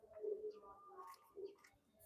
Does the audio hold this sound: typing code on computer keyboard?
no